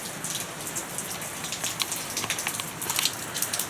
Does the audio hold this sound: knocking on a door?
no